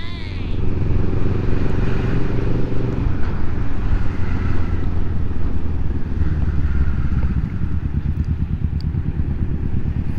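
A loud big bike motorcycle with a booming exhaust rumbles close by, its deep steady engine drone sustained throughout, heard from a riding Forza scooter with a GP Racing pipe amid road noise.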